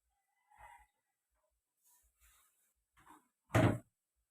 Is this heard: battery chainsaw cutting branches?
no